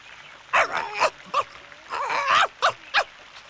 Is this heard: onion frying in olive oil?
no